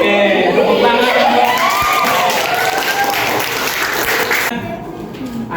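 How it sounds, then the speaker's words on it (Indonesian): A roomful of students break into loud applause mixed with cheers and children's shouts during a classroom session, sustained for several seconds before tapering off. "tepuk tangan"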